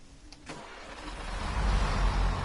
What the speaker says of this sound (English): let's get right up to the engines so we can hear them proper blasting out